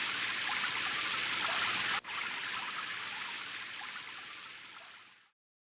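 Steady hiss of cartoon rain falling, a dense broadband patter that holds evenly, dips for an instant near two seconds, then fades gradually before cutting out; no one speaks.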